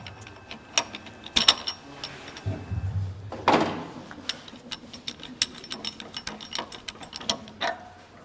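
Lathe spindle being wiggled by hand until the spindle lock engages, giving close, irregular metallic clicks and ratcheting clunks scattered through the clip with a brief low mechanical rumble midway.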